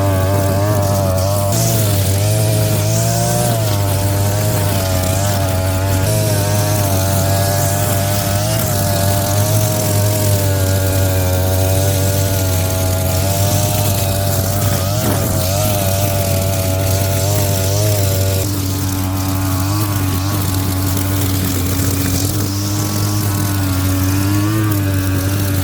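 Brush cutter fitted with both a cutting blade and a nylon line head, its small engine droning loud and steady at close range for the whole stretch, pitch wavering slightly as it cuts grass.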